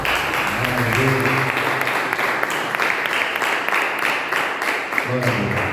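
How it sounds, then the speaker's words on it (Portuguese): A church congregation clapping hands in praise during a Portuguese-language worship service, sustained steady applause with a voice speaking over the start and end. "Pode louvar o Senhor com as palmas"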